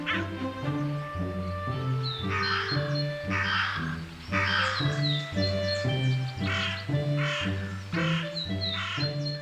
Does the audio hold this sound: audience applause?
no